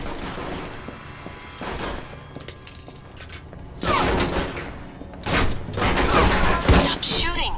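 Video game gunfire rattles in several loud, dense bursts between quieter stretches, close and harsh, with people talking over the shooting.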